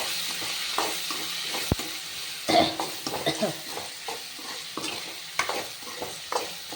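Turkey berries sauté with salt in a pan, with a utensil repeatedly scraping and clacking against the metal over a low sizzle. The strokes come in an uneven rhythm, close-up, with one sharp knock near the start.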